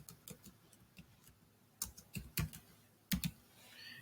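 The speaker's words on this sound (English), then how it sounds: "So I'm going to type all caps." Keys tap on a computer keyboard in short, scattered clicks and small clusters, fairly faint and close, with no talking.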